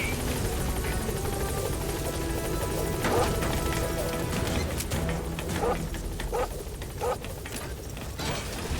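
Helicopter in the Metal Gear Solid V game arriving at a landing zone, a steady loud rotor drone filling the whole stretch with scattered impacts and clatter over it.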